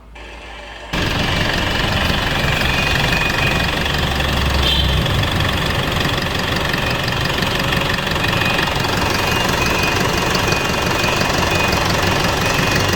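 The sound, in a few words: Isuzu NLR 85 common-rail diesel truck engine idling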